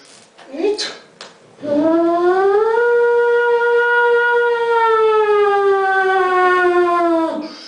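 A voice imitates an emergency exit door alarm, holding a long, steady wailing tone for several seconds after a couple of short vocal sounds.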